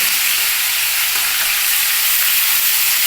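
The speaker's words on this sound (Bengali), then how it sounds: "আগেই মাংসটা তেলের মধ্যেই ভেজে নেব" Chicken pieces fry in hot oil, giving a steady, dense sizzle and crackle that runs unbroken and close, with no talking.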